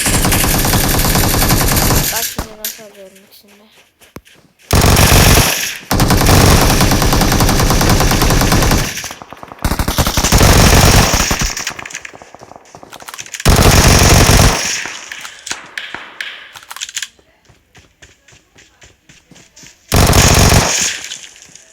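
Machine gun fire in a shooter video game, with loud, rapid sustained bursts alternating with short silent gaps, repeating several times over the stretch.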